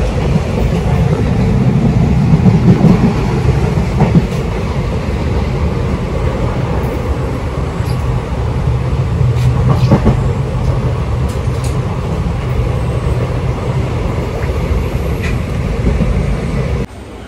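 A passenger train travels toward Kozhikode in Kerala with a loud, continuous low rumble of wheels and carriage noise, a few faint clicks and rattles on top, steady throughout and heard from inside, with no speech.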